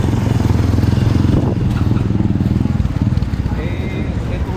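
A motorcycle engine with a carburetor problem running, a loud steady low rumble with rapid pulsing, close and continuous throughout, fluctuating slightly midway as if revs shift.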